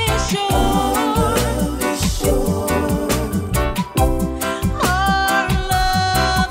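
A song plays as full band music with a steady beat and sung melody, loud and continuous throughout.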